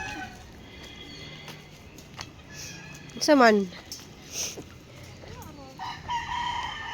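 Chickens and a rooster at feeding time give brief clucks and a short crowing call amid farmyard noise, with people talking nearby.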